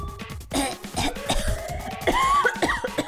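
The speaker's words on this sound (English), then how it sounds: "She's coughing so hard she can't even talk." A woman coughs hard and repeatedly from smoke in the visual novel game 999, with harsh throaty hacks and rasping breaths coming in bursts.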